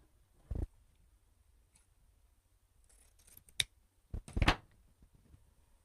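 Scissors snip through a ribbon tail while a bow is being made, giving a few sharp close cuts spaced apart in an otherwise quiet room.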